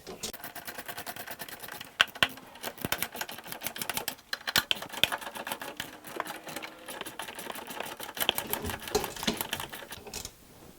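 A ratchet or impact tool tightening the rear lower control arm bolts on a Jeep Liberty in rapid bursts of clicking and rattling, fairly faint, with short pauses between runs and no talking.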